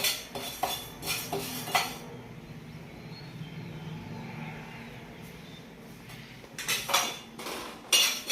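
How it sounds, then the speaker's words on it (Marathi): Sorghum grains roasting in an iron pan give short bursts of dry rattling and clatter near the start and end, with a quieter hissing, scraping lull between them and no voices. "हे जोंधळे आता भाजले ना फटफट फटफट आपल्या लाया तयार होतात"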